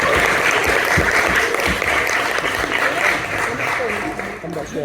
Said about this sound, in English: big round of applause for our first act